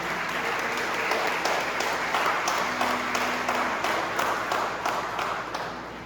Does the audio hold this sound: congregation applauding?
yes